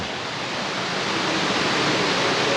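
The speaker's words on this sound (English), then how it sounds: "You can hear the water rushing." Underground waterfall of about 100 feet plunging inside a deep cave, a steady, dense roaring rush of water that fills the space evenly without any break or voice.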